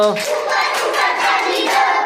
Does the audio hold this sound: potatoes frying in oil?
no